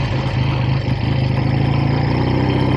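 A 1965 Triumph T100 motorcycle engine running steadily close by, a continuous throbbing idle with an even pulse and no voices over it.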